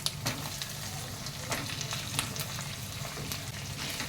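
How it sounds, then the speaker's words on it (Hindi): Chicken pieces frying in chutney masala for a Maharashtrian chicken dish give a steady close sizzle throughout, with a few sharper clicks of stirring against the pan and no talking. "चिकन को हम इसमें अच्छे से भून लेंगे।"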